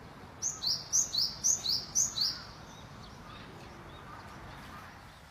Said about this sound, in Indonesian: Inilah gelatik batu Cinerius tit, atau dikenal juga sebagai turdus kecil pegunungan